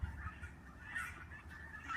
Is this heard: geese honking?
yes